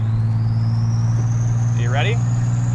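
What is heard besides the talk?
1987 Buick Grand National engine, driving and accelerating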